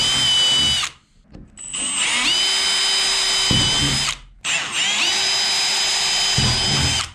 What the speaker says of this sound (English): now that I've got all of my holes marked out, I'm gonna go ahead and drill them